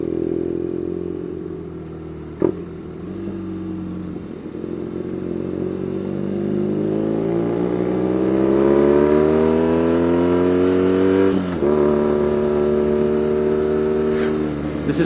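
A BMW R nineT motorcycle engine accelerates on an open road, its droning exhaust rising steadily in pitch through the gears with brief dips at shifts, loud and close, wind and road noise underneath.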